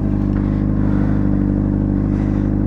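A Suzuki GSX-R sport motorcycle engine hums steadily up close, a low continuous drone with a mechanical rattle layered over it and no talking.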